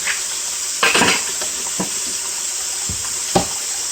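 Tap water runs steadily into a sink or container to soak salt-cured bacon, a constant close rushing hiss broken by a few sharp knocks and splashes as the meat is handled, with no talk.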